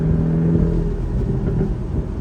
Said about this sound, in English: this one has a sport exhaust, as you guys can tell from the black tips and the walk around, and it sounds amazing